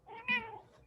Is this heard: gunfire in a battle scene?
no